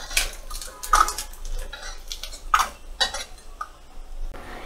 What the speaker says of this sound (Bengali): এগুলো এবার একটা পাত্রে আমি তুলে নেব।